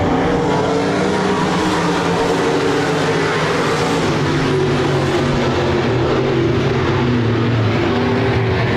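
Hobby stock race cars roar around Park Jefferson Speedway, a loud, continuous engine drone with layered throbbing tones as the pack runs together.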